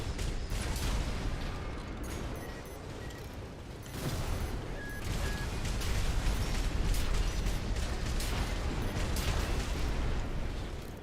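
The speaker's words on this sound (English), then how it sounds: "I think the explosion sound is the sound of them having their stamina broken rather than the sound of them dying." Dense, continuous mechanical rumble and bursts of mech combat explosions from the video game Armored Core 6, loud and sustained with crackling impacts and no talking.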